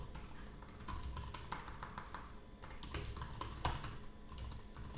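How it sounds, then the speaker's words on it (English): Steady keyboard typing on a computer, quiet clicks and key taps running continuously in short irregular bursts with no voices. "So let's go and let's type"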